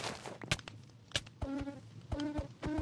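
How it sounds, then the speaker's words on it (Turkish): Mosquito buzzing in the Minecraft Crazy Craft modpack, repeated short tonal whines in bursts, mixed with thuds and footstep-like taps. "Lan sivrisineğe bak beni öldürüyor."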